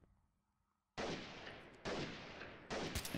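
Loud bursts of video game gunfire follow a quiet start, arriving as three heavy, sustained volleys in quick succession, close and with no talk.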